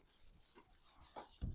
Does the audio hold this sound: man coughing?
no